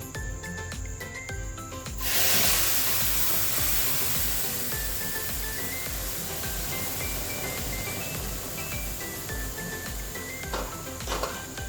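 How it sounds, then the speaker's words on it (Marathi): Boiled milk hits a pan of reddish-roasted vermicelli for sheera, setting off a sudden loud sizzling hiss that peaks at once and then settles into a steady bubbling simmer. "आता शेवया लालसर भाजून झालेल्या आहेत. त्यात आपण उकळलेलं दूध टाकणार आहोत."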